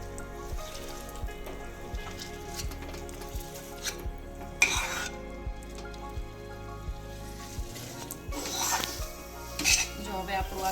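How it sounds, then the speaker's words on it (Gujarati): Softened dates (khajoor) are stirred constantly in a pan with a spoon, giving regular scraping taps against the metal over a faint sizzle, with a few louder clatters. "હવે જો આવી રીતે થોડો ખજૂર સોફ્ટ થાય એટલે એને સતત હલાવતા જ રહેવાનું છે તમારે"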